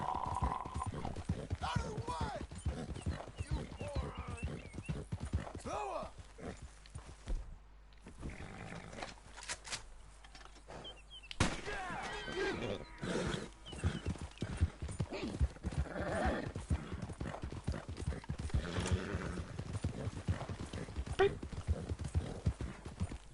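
Hooves clop steadily as a horse is ridden toward Blackwater in a cowboy video game, a rhythmic trotting pattern running throughout while someone talks over it in German.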